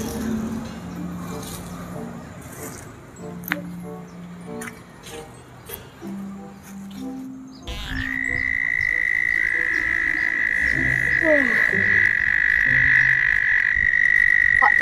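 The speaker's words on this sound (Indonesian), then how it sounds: "Kok jam segini berisik banget sih bunyi kodok." Frogs croak in a steady, rhythmic chorus, and a loud, continuous high-pitched trilling rises and persists over the croaking through the second half.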